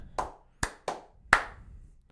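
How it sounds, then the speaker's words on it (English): Four loud, sharp hand claps ring out close by in an uneven rhythm, each with a brief decay, and no one speaks. "I have a hellacious clap."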